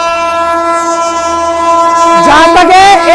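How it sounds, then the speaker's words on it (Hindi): A premium express train, the Sealdah Rajdhani Express, sounds a loud, sustained horn, and then a second blast and the roar of the train rushing past fill the final second. "कोई ना कोई प्रीमियम ट्रेन क्रॉस ज़रूर करेगी"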